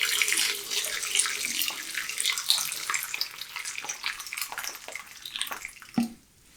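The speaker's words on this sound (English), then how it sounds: "and I add my boiling hot water." Boiling hot water pours steadily into a container to dissolve cleaning powder while bottling beer. The splash and trickle is bright and continuous, tapering off near the end.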